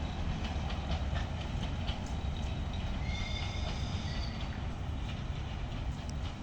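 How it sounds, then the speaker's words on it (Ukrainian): A train rumbles past on an active railway line, a loud, continuous low roar with faint rhythmic clacking of wheels over the track, very close. "Діюча залізниця."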